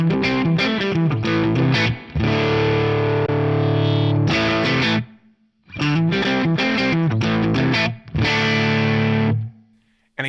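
Electric guitar strums and chords through a TONEX spring reverb, ringing out with a washy, splashy tail, played loud in two bursts separated by brief pauses.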